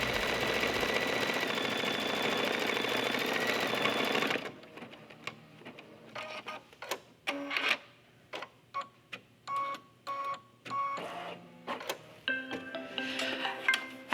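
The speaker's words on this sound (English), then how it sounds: "I still often find myself watching while the machine embroiders." A home embroidery machine stitches a lizard design into a hoop, first a steady loud mechanical whir for several seconds, then a series of short bursts and pauses as the stitching starts and stops.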